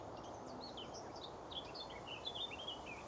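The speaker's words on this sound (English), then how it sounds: "There's a robin up in there somewhere." Faint, scattered robin chirps and warbling phrases high above a steady background hum, coming from some distance.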